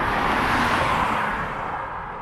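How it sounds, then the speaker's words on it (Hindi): Loud, continuous roar of a car cruising at 120 km/h on a highway, heard as steady broadband road and wind noise that eases slightly toward the end, with no talking. "एक 120 की स्पीड पे गाड़ी चल रही है, धुआंधार आवाज आ रही है।"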